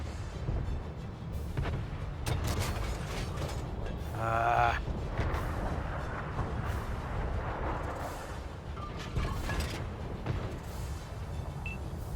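A tank's stock cannon fires once in World of Tanks on console co-op, a single sharp boom with a short metallic ring, standing out over a steady rumbling engine drone.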